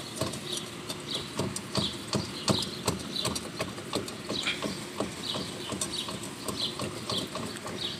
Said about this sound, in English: Yeah, this wheel bearing is shot.